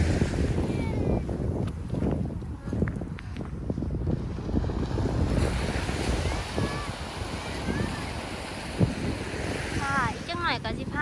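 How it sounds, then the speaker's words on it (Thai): Wind and sea waves at a Kanagawa beach in Japan make a steady roar of gusts buffeting the microphone over washing surf. Faint bird calls and distant voices come through near the end. "บรรยากาศลม"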